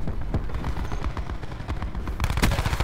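Switchblade X9 submachine gun in the video game Black Ops 4 fires steady, rapid automatic bursts alongside other loud game gunfire and impacts, sustained throughout with a sharper burst near the end.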